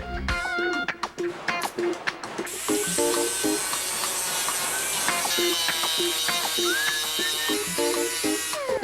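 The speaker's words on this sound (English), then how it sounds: "So now I'm just metal finishing it after I welded it up." Metal finishing of a freshly welded mounting bracket with a power tool, a steady loud mechanical whirring and grinding hiss running throughout with shifting tone, no talk.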